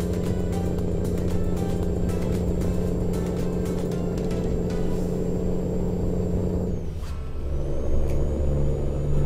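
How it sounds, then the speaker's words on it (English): Deep, steady rumble of a straight-piped Scania V8 truck engine heard from inside the cab in Euro Truck Simulator 2, droning loudly throughout, dipping briefly near the end before resuming. "it sounds kind of more realistic as a straight pipe truck with V8 Scania would sound from inside the driver's cab"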